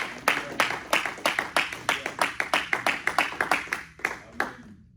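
A church congregation claps in a steady, lively rhythm during a worship acclamation, sharp repeated claps from many hands filling the space, tapering off toward the end.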